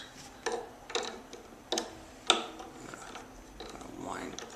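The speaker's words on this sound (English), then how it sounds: "now I've kind of got it going, so I'm going to switch to my winder." A hand string winder turns on an acoustic guitar tuning peg and gives a few soft, close ratcheting clicks, spaced about half a second apart, followed by a faint rising whir as the string winds on.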